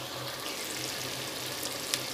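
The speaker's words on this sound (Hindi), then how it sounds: "अभी टमाटर और सब्ज़ मिर्च तकरीबन 2 से 3 मिनट तक पकाएंगे।" Tomatoes and green chillies cook in a pan for a Pakistani cabbage and chicken dish, giving a steady, fairly faint sizzle that runs without a break, with one small clink near the end and no voices.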